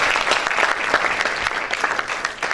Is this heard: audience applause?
yes